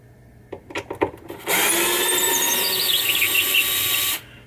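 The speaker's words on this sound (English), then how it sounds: "Now we got 6 screws that we're going to take out." A power screwdriver backs screws out of a board inside a 1980 Stern Flight 2000 pinball machine, a few short clicks followed by a steady, close whirring run of several seconds that stops abruptly.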